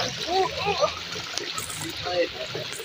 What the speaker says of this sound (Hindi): और ये इतनी स्पीड से पानी आ रहा है इधर